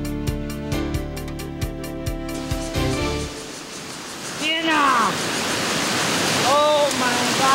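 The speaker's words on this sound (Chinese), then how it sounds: "这木瓜坑瀑布真的不是盖的，还没有到瀑布底就感受到它如此惊人的魅力。" Mugua Keng waterfall in Nantou, Taiwan, a roaring rush of falling water that fills the second half after rhythmic music fades, with voices and bird-like calls over the steady roar.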